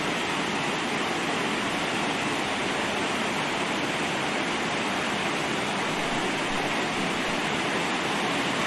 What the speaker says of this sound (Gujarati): વરસાદથી પર્વતો પરથી પાણી વહેતું થયું છે